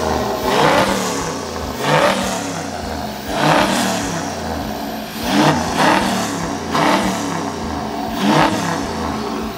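Toyota 79 Series single-cab engine revving hard through a custom 4-inch exhaust that splits into twin outlets dumping either side; about six loud, rising and falling revs repeat in a steady rhythm, close by with no talking.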